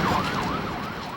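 An emergency vehicle siren at the scene of a gunman's attack on students in Montreal wails, its pitch sweeping up and down in a repeating cycle, loud and close at first and easing slightly toward the end, with traffic noise beneath.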